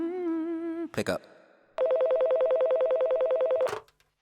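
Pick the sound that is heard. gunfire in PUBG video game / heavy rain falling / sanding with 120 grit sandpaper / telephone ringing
telephone ringing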